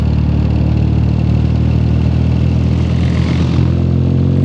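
A 1968 Triumph Bonneville motorcycle rides past, its engine a loud, steady mid-pitched drone that swells slightly as it nears and passes.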